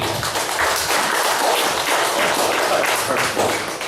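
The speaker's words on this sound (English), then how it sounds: "Big round of applause for Stacy." An audience at a live event of lyrical readings about Washington State birds applauds a performer being introduced, producing a dense, even roar of many hands clapping at steady loudness.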